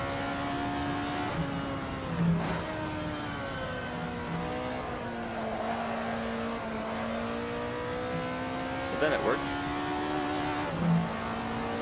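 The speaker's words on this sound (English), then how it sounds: "Love high revving NA engines just because of the sound of them" A high-revving naturally aspirated car engine in the Assetto Corsa racing game climbs and drops through the gears, the sustained whine rising and falling steadily with a few brief shifts, and a voice speaks a short line.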